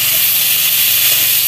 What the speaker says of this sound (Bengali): এঁচোড় ভালো করে ভেজে নেবে